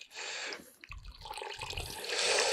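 Leftover water from soaking hemp seed for carp feeder bait is poured off from a separate container, giving trickling, splashing bursts with short pauses, heard up close.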